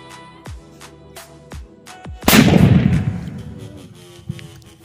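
A green sutli firecracker set inside a hole in the ground bursts with one sharp, loud boom and a crackling, decaying rumble, after a few soft thuds and brief talk before it.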